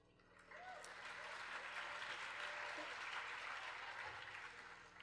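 Concert audience at a symphony orchestra show breaks into applause that swells in after a brief pause, stays thick and steady, then tapers slightly, heard from some distance and fairly soft.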